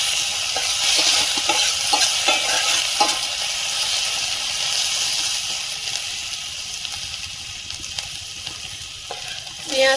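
Meat frying in hot oil with whole garam masala spices, a steady close sizzle and hiss with scattered stirring scrapes and small pops throughout, no talking.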